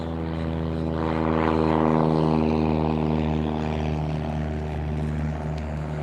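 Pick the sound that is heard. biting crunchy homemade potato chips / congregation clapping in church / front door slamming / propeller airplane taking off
propeller airplane taking off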